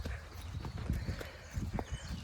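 A horse led in hand on an outdoor walk, hooves clip-clopping in an irregular walking rhythm, close and fairly quiet, with no talking over it.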